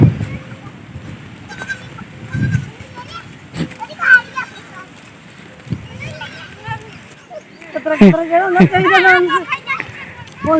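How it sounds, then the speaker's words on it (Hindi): Goats bleating in a village herd during milking, with rising bleats clustered toward the end over background rustle and nearby people talking. "माशाल्लाह बहुत ज़्यादा बकरी हैं।"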